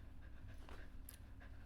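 Quick rhythmic panting of a puppy eager to play, soft and close, with short breathy puffs repeating over a quiet low hum.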